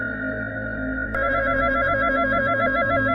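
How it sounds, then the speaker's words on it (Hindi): A loud, steady electronic phone ringing repeats over a dense droning background in an animated horror story set in a cemetery at night, the tone growing busier after the first second. "घंटी की आवाज"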